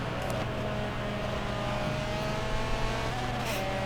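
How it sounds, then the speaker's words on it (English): Race car engines in the Forza Motorsport 7 video game at Road America, a steady sustained drone of several cars with the throttle held and eased, continuous and fairly loud with no clear breaks. "See the guys really feathering the throttle there"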